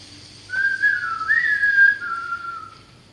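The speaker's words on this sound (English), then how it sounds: "Could you whistle for us? Could you copy this whistle?" A single person whistles a short, wavering tune, clear and close, lasting about a second and a half against a quiet background.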